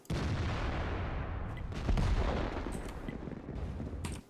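A World of Tanks artillery gun fires during a match, with a deep booming blast over a sustained heavy rumble. The report swells in the middle and is followed by fainter scattered impacts.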